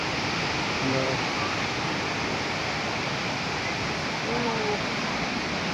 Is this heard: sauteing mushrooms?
no